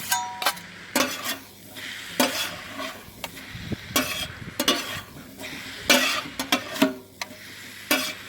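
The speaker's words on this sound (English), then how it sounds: "then we'll start adding our scrambled eggs" Beaten eggs cooking in a pan for a Bombay street food sandwich, low frying sizzle under repeated scraping and stirring strokes with occasional metal utensil clinks, no talking.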